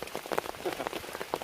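Heavy rain drums steadily on a Zephyros 1 tent during a wild camp in a storm, a dense, close patter of drops with no voices.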